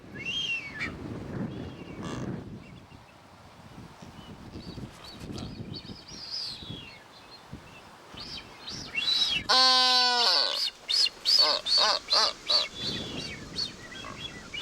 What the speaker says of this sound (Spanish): Aves como estos piqueros de patas azules o las que anidaban sobre las rocas debieron ser los primeros en procrear en Galápagos